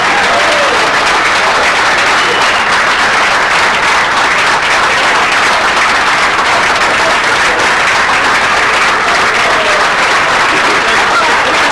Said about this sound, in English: you've got to give the campers, the Hall of Famers we had here today, a great round of applause